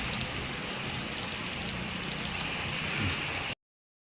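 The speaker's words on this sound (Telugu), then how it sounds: "చూడండి బయట ఎట్లా పడుతుందో వర్షం" Steady heavy rain pours down without pause, a dense hiss of drops drumming on a nearby surface for a few seconds before cutting off.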